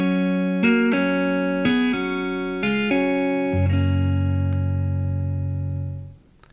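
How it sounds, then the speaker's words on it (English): Two-string tapping on guitar with an effects-processed tone: a sequence of bright, sustained plucked dyads, about five attacks in steady rhythm, the last ringing out long before fading, played alone. "So you can also tap two strings, it sounds like this."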